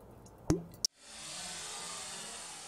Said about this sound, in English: Next, a resin mixture is poured directly into the liner opening.